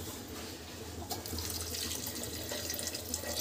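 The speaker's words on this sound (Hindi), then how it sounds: "पहले थोड़ा सा पानी डाल लें इसमें।" Leftover water saved from cooking rice poured into a cooking pot for vegetable biryani, a soft steady splashing stream that grows louder after a moment and runs on without speech.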